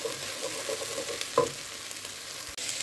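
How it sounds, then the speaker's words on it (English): Garlic fries in a pan for a steak and ale pie filling, a steady close sizzle with a clack of a utensil stirring partway through and no voices. "we're going to add our garlic and cook our garlic off for a couple of minutes"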